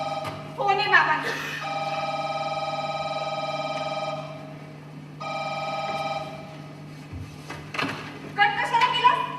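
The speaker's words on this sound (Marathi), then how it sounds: "फोन आहे बाबांचा" Telephone ringing on stage in a college drama performance: two long sustained electronic rings separated by a pause, with voices talking at the start and end.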